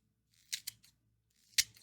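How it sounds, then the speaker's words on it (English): Kitchen scissors snip through scallions in a quiet kitchen: two quick cuts, then a softer one, a pause, and one more crisp snip, all close and isolated. "using your scissors to cut scallions just is like God gamer"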